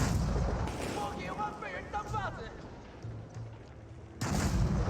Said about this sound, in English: All of us now firing away, bombarding down the outpost.